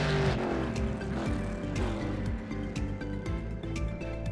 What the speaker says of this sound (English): And all you're going to hear is the bellows of these engines.